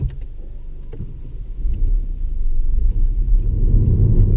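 Peugeot 308 GTi 270 engine with sport mode off, a low muffled rumble heard from inside the cabin that swells after a moment and then holds a steady, subdued drone.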